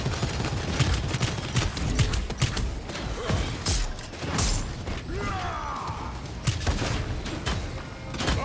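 Rapid gunfire in the online shooter Paladins, with dense bursts of sharp shots and mechanical clatter layered over busy game noise, continuous and close throughout.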